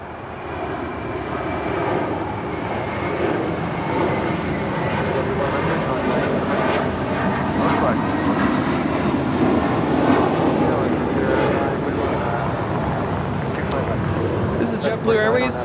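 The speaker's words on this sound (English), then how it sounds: "Blue Airways Flight 100, departing to Fort Lauderdale on an A321" A JetBlue Airbus A321 departs Los Angeles International Airport for Fort Lauderdale, its jet engines producing a loud, sustained broadband roar that holds steady throughout.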